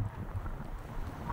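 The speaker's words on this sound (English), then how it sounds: "it's getting really windy now, so hopefully you can still hear me" Gusty wind buffeting a phone microphone outdoors at the beach, a steady low rumble with brief louder bursts, no voice heard.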